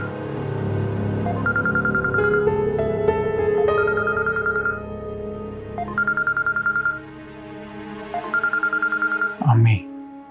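A telephone rings in a domestic scene, repeated short electronic ring bursts sounding in regular pairs, with people talking throughout in the background.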